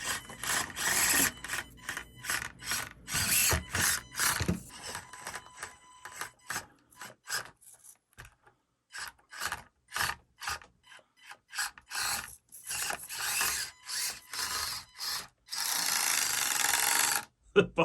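An SCX24 RC crawler drives with its body rubbing on the tires, giving rapid rasping, ratchety scrapes in bursts with brief pauses, close and fairly loud.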